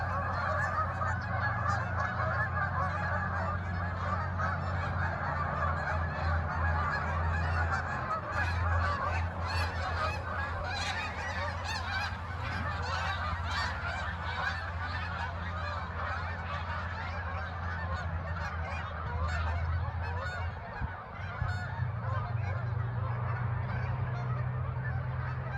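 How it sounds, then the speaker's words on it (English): Large flock of Canada geese mixed with greater white-fronted geese at a park on a lake, honking continuously in overlapping calls, dense and sustained, near and far voices blending over the whole stretch. "our two greater white-fronted geese integrating with the flock of Canada geese"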